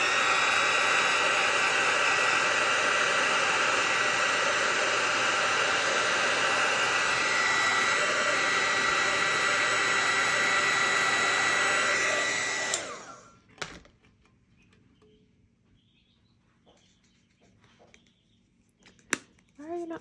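A dryer blows loud and close, drying glitter on a tumbler with a steady roaring whoosh for about thirteen seconds before it cuts off abruptly. Near silence follows, broken by a few faint handling clicks.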